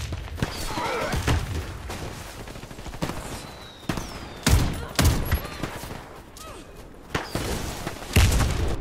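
Shotgun fire in a video game, the PA Gabaribaldi 12-gauge, comes as sharp, loud blasts in irregular clusters with thuds and impacts between them, close and dominant, with little talk.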